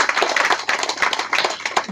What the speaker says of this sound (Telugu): వారిద్దరికి గట్టిగా చప్పట్లతో అభినందనలు తెలియజేద్దాం